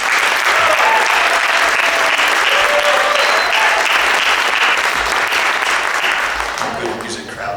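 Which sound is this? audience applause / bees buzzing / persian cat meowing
audience applause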